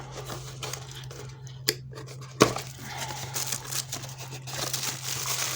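The plastic packaging of a Yanmai SF-666R microphone is handled and torn open, with crinkling, a couple of sharp snips or pops, and rustling close by over a low hum.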